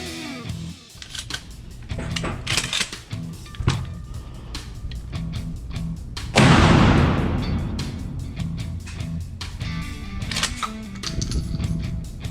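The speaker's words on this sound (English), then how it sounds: "now I'm gonna put this Winchester Defender slug in my shotgun" A pump shotgun fires a Winchester Defender slug outdoors at a range: one sharp, loud blast with a long rolling echo partway through, amid steady background noise and small handling clicks.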